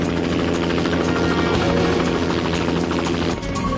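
A helicopter's rotor and engine drone loud and steady, with a continuous beating throb that fills the whole stretch and never fades away.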